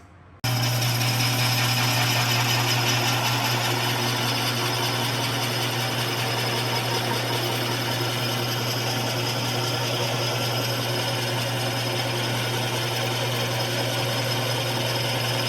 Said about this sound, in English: I'll be able to put a little chamfer on both sides and clean up the edges